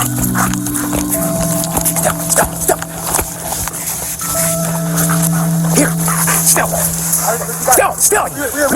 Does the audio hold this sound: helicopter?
no